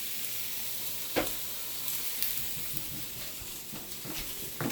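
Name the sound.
turkey sausage sauteing with parsnips and red onion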